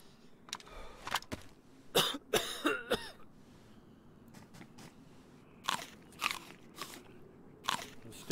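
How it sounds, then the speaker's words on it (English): A character coughs repeatedly in the survival game DayZ, with sharp, close bursts in irregular clusters over quiet background ambience. "If this guy keeps coughing"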